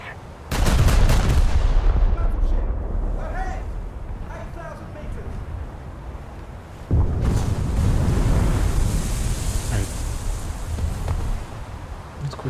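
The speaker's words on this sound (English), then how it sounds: "Not sure what that explosion was." A heavy explosion booms in a naval battle game, a loud burst with a long rumbling decay, followed by a second blast-like surge, under intermittent talk.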